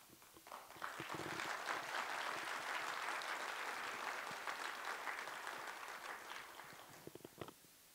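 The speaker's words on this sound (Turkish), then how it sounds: "İşte bu alkışlarla işi idare ediyoruz" Audience applause at a lecture hall talk, a dense burst of clapping that swells quickly, holds steady for several seconds, then thins out to a few scattered claps at the end, heard without talk over it.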